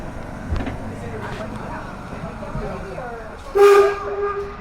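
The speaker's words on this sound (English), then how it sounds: "giving us the sound of a single whistle" A single short train whistle blows near the end as the train pulls into a station, clear and loud, after some low rumbling and faint background sounds.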